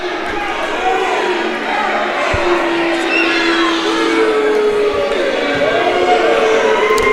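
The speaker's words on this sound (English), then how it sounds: "the Kerens crowd really not liking what's going on here" A crowd at a high school girls' basketball game rumbles with a steady, agitated murmur after a foul, with scattered shouts, a few sharp thuds and squeaks from the court, and no clear speech.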